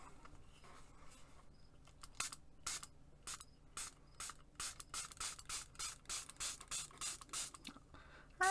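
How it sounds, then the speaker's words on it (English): Spray mist goes onto junk journal paper in a run of short, close hissing bursts, sparse at first and then quickly repeated in a steady rhythm. "And let's try a little spray."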